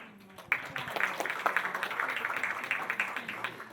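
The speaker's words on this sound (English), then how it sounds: "let us welcome after Ethan of Zoomed with a big round of applause" Audience applause at a startup pitching session of the NextRise 2019 event, a dense, steady patter of many hands clapping that swells in and carries on for several seconds at moderate volume.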